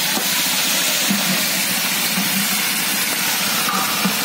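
Broiler chicken, several kilos, frying in a large pot of hot oil for a cook's chicken biryani, giving a loud, steady, close hiss and sizzle that holds without pause.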